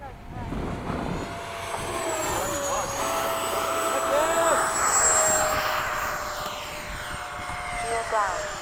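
Electric ducted-fan RC model jets, an FMS 80mm Hawk and E-flite 80mm Havoks, whine overhead in formation at an airfield, a loud sustained rushing hiss that rises and sweeps past with Doppler shifts while a voice speaks underneath.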